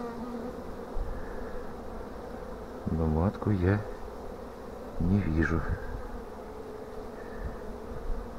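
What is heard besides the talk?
honeybees buzzing at hive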